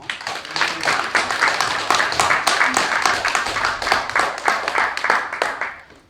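Church congregation applauding during a conference week, rhythmic clapping with distinct hand strikes, fairly close and lively, fading out near the end.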